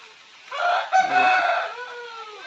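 A fighting rooster of a pandem breed crows once, loud and close, a long drawn call that rises and then trails off into a fading tail.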